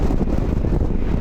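Cold wind gusting through a canyon in Kazakhstan, a steady loud rumbling buffet of air against the microphone with no speech, continuous for a little over a second.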